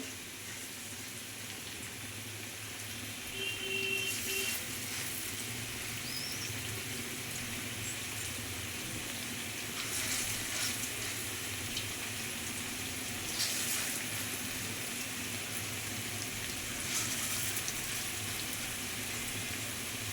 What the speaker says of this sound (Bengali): তেল গরম হয়ে গেছে, এবার আমি এগুলো ভেজে নেব।